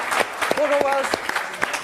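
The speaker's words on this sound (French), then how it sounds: "Vous pouvez les accueillir sur ce plateau et les applaudir" A French TV studio audience keeps applauding guests as they arrive, a busy, crackling clatter of clapping with a brief spoken greeting heard over it.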